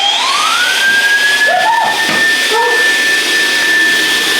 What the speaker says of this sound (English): I need to hoover it because it's not been hoovered behind there